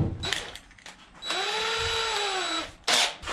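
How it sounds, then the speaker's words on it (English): A power drill fitted with a 3/4 inch paddle bit bores a hole, giving one steady, close, high whine of about a second and a half, bracketed by brief handling knocks and with no talking. "I'm going to use a 3/4 inch paddle bit."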